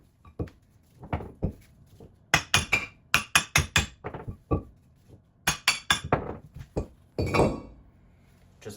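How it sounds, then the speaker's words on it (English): A sledgehammer taps a front brake rotor loose from the hub of a 1986–1994 Toyota 4Runner or pickup. Close, sharp metallic clanks ring out in quick bursts of several strikes, with short pauses between the groups. "just tap it with a sledge."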